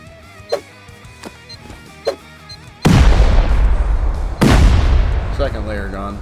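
Explosives breach layered base walls in the video game Rust: a few light clicks, then two loud, booming blasts about a second and a half apart, each trailing into a sustained rumble.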